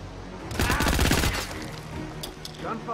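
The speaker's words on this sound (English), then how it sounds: "Gunfire! Stay alert." A rapid burst of video game gunfire in Hitman crackles loudly in a fast flurry of shots, then trails off into scattered sounds.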